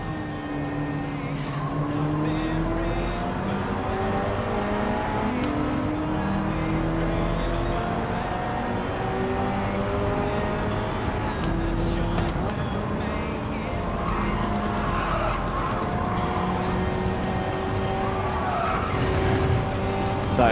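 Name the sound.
racing cars and tire skidding in video game Gran Turismo 7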